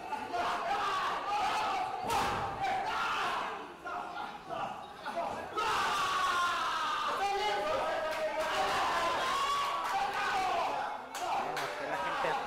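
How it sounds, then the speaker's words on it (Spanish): Crowd at a lucha libre wrestling show in a gym in Guadalajara cheering and shouting in sustained waves, with scattered claps and thuds, loud and continuous throughout. "Que la gente aplaude, que la gente se anima."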